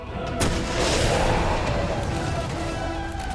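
A rocket launcher fired at the Tyrant boss in Resident Evil 2 gives a sharp loud blast followed by a long rumbling roar that slowly fades, with faint rattling debris underneath.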